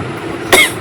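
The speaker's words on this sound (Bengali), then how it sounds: "আমি তো কাশতে কাশতে কাশতে কাশতে আমার এই গলার মধ্যেই ব্যথা হয়ে গেছে" A single sharp cough bursts out midway, close and fairly loud, against quiet indoor background with no talk.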